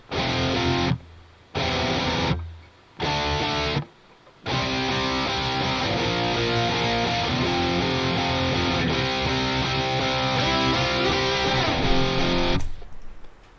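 Heavily distorted rhythm electric guitars chug in a rock song mix, a few stop-start stabs then a dense continuous wall of sound, loud and full with no voices.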